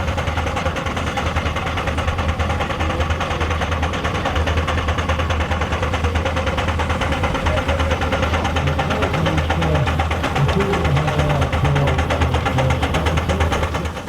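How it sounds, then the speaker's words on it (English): A compound overhead side valve steam engine, the Prince Albert, runs steadily at a steam and vintage show, giving a continuous close mechanical rumble with a faint rhythmic beat and no talk over it. "It's Jack Brown's compound overhead side valve Prince Albert, in the care of the Vickery family this weekend"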